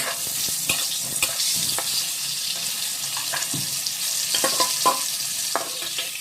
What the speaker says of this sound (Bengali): ওই পটলগুলো এখন ভেজে নেব দেখো এখানে সামান্য নুন হলুদ দিয়ে পটলটা ভেজে ভেজে তুলে রাখবো